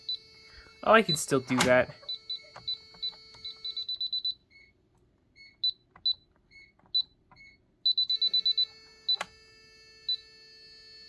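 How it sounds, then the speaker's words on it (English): A person talks briefly, then a security alarm keypad sounds a string of short, evenly spaced electronic beeps, pausing and resuming in quicker clusters. "here you can also hear this keypad beep"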